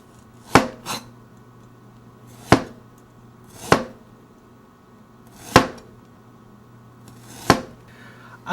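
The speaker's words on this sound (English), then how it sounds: "First, we're going to take the ginger and slice it into 4 little thin slices." A knife slices fresh ginger into thin pieces on a cutting board, giving six or seven sharp, distinct chops spaced irregularly and heard close up with no talking.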